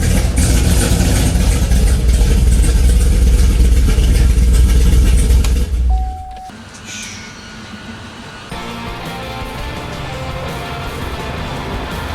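Supercharged Camaro ZL1 engine, a loud sustained roar for about six seconds that cuts off sharply, leaving a quieter low rumble and idle for the rest.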